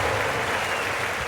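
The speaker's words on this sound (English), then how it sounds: "Plenty of crowd support here." A crowd cheers and applauds before a swimming race starts, producing a steady dense wash of clapping that holds at the same level throughout.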